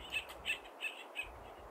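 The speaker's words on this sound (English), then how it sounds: "Do you hear that bird?" In the Siren Head horror video game, a bird chirps four short, evenly spaced tweets over a steady background ambience, with no voices.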